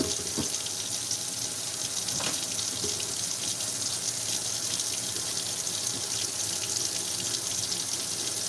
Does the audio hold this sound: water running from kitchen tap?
yes